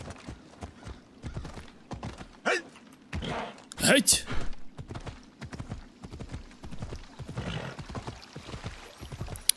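Rhythmic clip-clop of hooves with a horse whinny partway through in Assassin's Creed Odyssey, under someone talking briefly.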